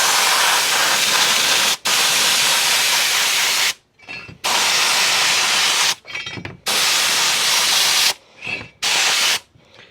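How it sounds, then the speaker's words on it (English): Loud, close hissing sprays of spray adhesive onto metal for upholstering a 1932 Ford column drop come in long bursts, separated by brief pauses and short sputtering puffs. "we're gonna spray on the metal first because it soaks into the foam a little bit"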